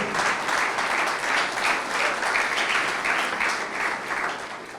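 A church congregation applauds during a sermon, with a full, steady round of clapping from many hands in a pulsing rhythm that continues throughout.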